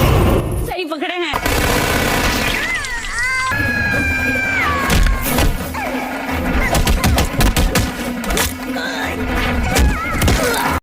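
Bursts of gunfire and crashing impacts in a Bollywood action fight scene ring out over a dramatic soundtrack, with shouting voices mixed in throughout.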